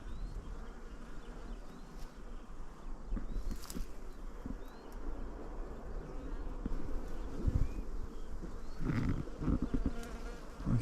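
Honey bees buzz and fly around flowering acacia outdoors, a faint, continuous hum with bees passing nearer now and then and occasional birdsong behind.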